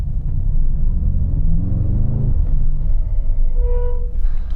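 Brakes on a Mercedes-AMG GT63s give a squeal near the end of a stop, a faint rising whine over the steady low rumble of the moving car.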